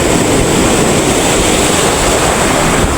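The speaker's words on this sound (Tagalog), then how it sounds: "ganyan kalaki yung alon mahirap yan" Big ocean waves crash and wash without a break at a shoreline fishing spot, a loud, dense roar of surf with steady hiss and no voices.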